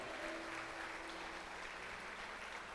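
Steady applause from a crowd fills the whole stretch, faint and distant, a continuous wash of clapping with no voices over it.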